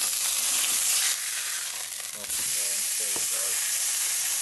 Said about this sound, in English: I'll just seal it for a few moments in there